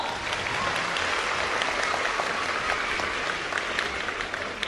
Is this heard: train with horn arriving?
no